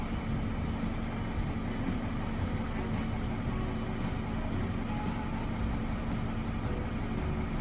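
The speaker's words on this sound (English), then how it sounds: "Sorry about the noise off the buses." Buses pass on a nearby road, making a continuous low rumble and engine drone with a broad traffic wash and no talk over it.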